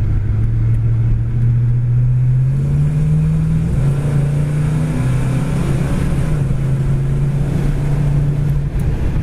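A 1967 Dodge Coronet engine drones loud and close as the car drives on the road in strong wind, its low, steady hum rising slightly in pitch before holding level.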